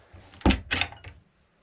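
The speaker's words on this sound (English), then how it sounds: "if we'll just close the door" The door of the generator compartment on a Bavaria Vision 46 yacht swings shut, a pair of close, solid thunks a few tenths of a second apart followed by quiet.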